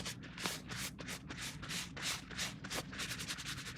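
Repeated rubbing strokes of a cloth wiping chalk paint off a faux concrete pot cast from air dry clay, steady scratchy swishes in a close, even rhythm with no voices.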